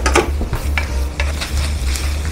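Drained tuna goes into a pan of sautéing onion and garlic, bringing a loud close sizzle with quick stirring and scraping strokes, and no voices.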